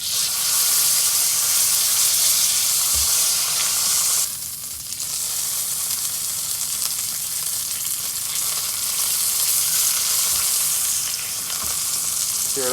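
Duck breast searing flesh side down in a hot pan gives a steady, loud, close sizzle that runs the whole time, with a brief dip partway through and a few soft clicks.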